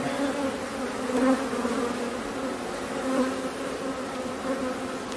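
Honeybees swarm and buzz around hive frames laden with stores and pollen while a colony is split, a steady dense hum close by with no voices over it.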